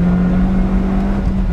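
Lotus Elise Sport 220 accelerating hard out of a corner on a race track, a loud, steady engine drone with a strong low hum held close throughout, no voices.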